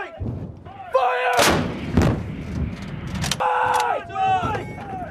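M777 howitzer fired by U.S. Marines during training, one huge booming blast near the start followed by a rolling crash and a second loud report, with shouted commands and voices around the guns.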